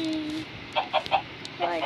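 Five or six chickens give a few short, close clucks in quick succession, with a human voice briefly mixed in around them.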